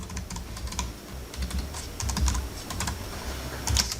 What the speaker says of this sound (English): let's just type some random things